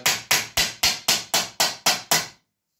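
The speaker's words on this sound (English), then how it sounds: "Also can hammer from the inside" Nine evenly spaced metallic strikes of a hammer shaping a steel Gjermundbu viking helmet from the inside, sharp and ringing, close and loud with no talk, ending in silence.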